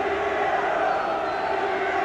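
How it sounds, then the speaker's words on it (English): A football crowd at the Goldstone Ground, Brighton, during Brighton & Hove Albion against Liverpool in 1981, rumbles as a steady, distant roar of massed voices that stays level throughout. "the crowd here at the Goldstone starting to wake up"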